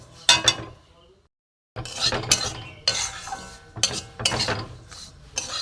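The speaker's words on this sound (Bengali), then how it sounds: "সুজিটা আমি ভেজে নেব। বেশি লাল করব না, সাদা করেই আমি ভাজবো।" Semolina (suji) fries in ghee in a pan while a spoon stirs it, giving repeated scraping strokes and metallic clinks close up, with a short pause partway through.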